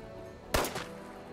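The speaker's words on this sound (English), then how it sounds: "Are you shooting at me?" A single gunshot bursts out in the video game Fallout 76, a short sharp blast with a brief tail over steady background game noise.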